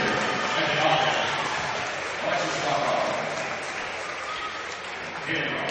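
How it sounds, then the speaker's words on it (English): A girls' high school basketball crowd applauds for the seniors in a gym, a broad sustained wash of clapping and cheering with voices mixed in and an echoing hall sound. "And here's the round of applause for the seniors."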